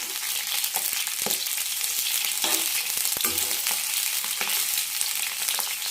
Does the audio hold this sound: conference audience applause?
no